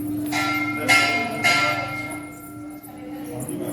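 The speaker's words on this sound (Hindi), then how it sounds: "मैं भी आपको घंटा बजा के दिखाई दे रही हूँ" A temple bell rung at a Shiv temple, Baba Belkhar Nath Shiv Dham in Pratapgarh, strikes twice in quick succession with a long ringing hum, heard alongside faint background chatter.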